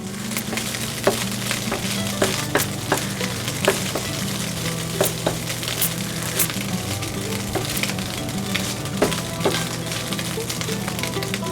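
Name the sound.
Spam frying in a pan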